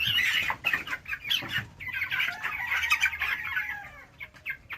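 Live chickens at a halal live chicken farm in New Jersey cluck steadily and densely, with bursts of wing flapping and a faint crow among the busy, close flock.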